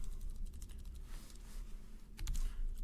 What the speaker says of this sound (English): My word, I can't seem to type today.